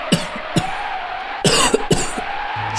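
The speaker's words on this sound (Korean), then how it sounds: "그리고 기침을 했어요." Coughing during a Christmas church play, heard as a series of short, sharp coughs in irregular bursts, some close together in a brief cluster, fairly loud and near, with faint room murmur between them.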